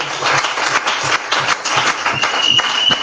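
A church congregation applauds through a Sunday service, steady rhythmic clapping that fills the room at close range, with voices calling out beneath it.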